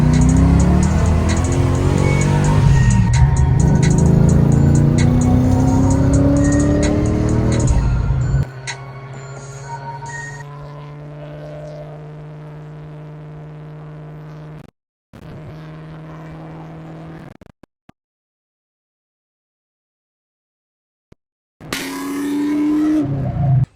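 A supercharged Ford Mustang, just revived after a decade of sitting, is driven hard at first: its loud engine climbs and falls through the gears, then settles to a steadier tone, cuts out into silence, and bursts back briefly at the end.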